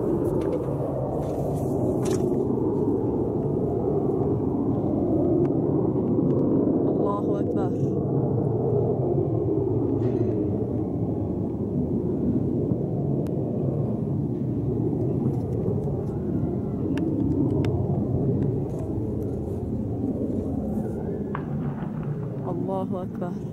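MiG warplanes flying over the city of Douma, a heavy continuous low rumble of jet engines overhead, loud and unbroken throughout, with occasional faint voices in the background.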